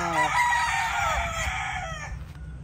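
Rooster crowing close up, a long drawn-out call over the first two seconds with hens clucking faintly underneath, part of a flock of gamefowl kept for breeding.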